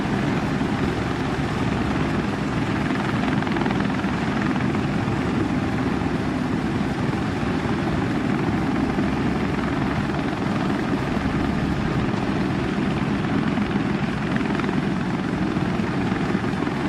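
Helicopter in a flight video game, its rotor and engine drone running steady and loud for the whole stretch with no talk over it.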